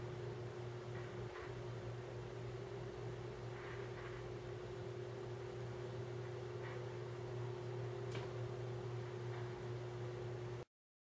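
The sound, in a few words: electric fan running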